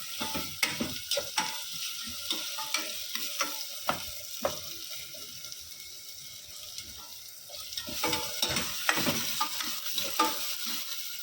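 Onions frying in a pan for dal palak are stirred with repeated scraping clicks over a steady sizzle, the stirring busier toward the end, with no talk.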